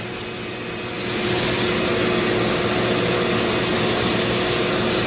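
A vacuum's suction hose roars at close range beside a Dremel rotary tool carving a wooden friendship staff, switching from a lower hum to a steady, loud, broadband whoosh after about a second and holding there.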